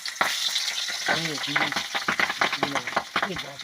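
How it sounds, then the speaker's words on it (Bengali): Magur catfish pieces hiss and crackle as they fry in hot oil in a karahi, a steady close sizzle with spattering pops, while a voice talks over it. "তেলটি ভালোই গরম হয়ে গেছে এবার মাছকুটিকে ভেজে নিবার পালা মাছ দিল"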